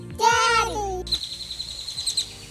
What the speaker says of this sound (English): There are birds singing, so that's a good thing.